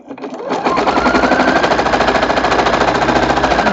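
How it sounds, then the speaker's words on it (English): A sewing machine stitches quilt pieces at a quarter-inch seam, starting up and then running at a steady, rapid, loud mechanical chatter close by, with no talking. "And sew to the edge, keeping that 1/4 inch seam."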